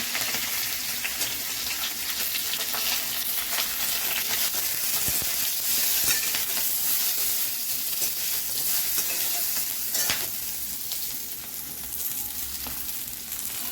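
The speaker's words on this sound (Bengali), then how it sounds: "কালো জিরে লঙ্কা ফোড়ন দেবো, বেগুন দিয়ে দেবো" Eggplant frying in hot oil with a nigella seed and chili tempering, a steady dense sizzle with occasional stirring scrapes, loud and close throughout without any talking.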